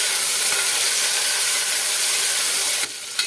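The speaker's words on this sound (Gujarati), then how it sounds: "હવે તેમાં આપણે ગુવારને નાખી દઈએ અને સારી રીતે મિક્સ કરી દઈએ." Cluster beans (guvar) tipped into a pan of sautéed ingredients for guvar dhokli curry and stirred, giving a loud, steady hissing sizzle for about three seconds before it abruptly quiets.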